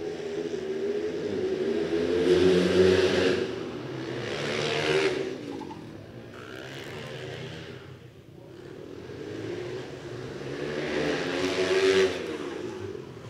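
Supermoto motorcycles race around a tight hairpin on a track, several engines buzzing and revving in repeated swells as bikes pass nearby one after another, with nothing else heard over them.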